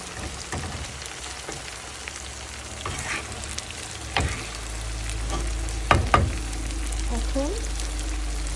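Red chillies hit hot oil in a pan while ilish fish cooks, raising a constant sizzle with scattered spatters and stirring clatters, louder near the end; a brief voice sounds faintly underneath.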